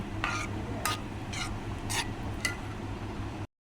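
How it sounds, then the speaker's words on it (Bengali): Semolina dough stirred in a pan over a low flame, five evenly spaced rasping scrapes of a spoon against the metal over a steady low background hum. "নেড়ে চেড়ে ডোটাকে শক্ত করে নিব। 1 মিনিট ধরে নাড়াচাড়া দিতে হবে।"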